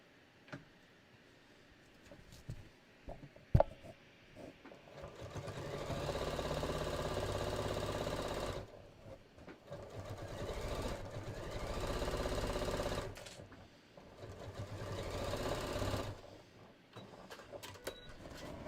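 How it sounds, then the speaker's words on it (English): A sewing machine stitches through two layers of foam across the bottom of a beach tote, with three sustained steady motor runs of several seconds each, separated by pauses and a few sharp handling clicks. "you can see my machine is having no trouble sewing through 2 layers of this foam"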